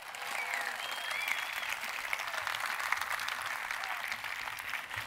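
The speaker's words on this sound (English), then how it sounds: "Give them a better round of applause for that" Steady applause from a large audience at a university presidential inauguration fills the room at a moderate distance, an even wash of many clapping hands sustained throughout with faint crowd murmur.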